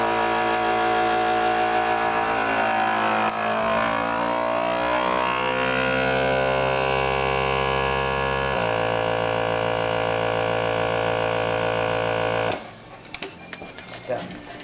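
A vacuum sealer pulls air from a bag of home-smoked bacon, a loud steady motor hum with shifting tonal whine that drops in pitch midway, then cuts off near the end, leaving faint handling noises.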